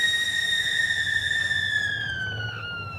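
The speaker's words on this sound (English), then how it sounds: "She screamed so loud and so long that windows broke all over town." An opera singer, a coloratura soprano, lets out a long, loud, piercing high-pitched scream that holds steadily and slowly slides downward in pitch, heard alone.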